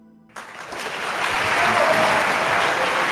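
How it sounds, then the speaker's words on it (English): Applause from a bar crowd begins abruptly and builds into a steady, dense wash of clapping that continues to the end with no talk over it. "I missed the applause. The love of the crowd."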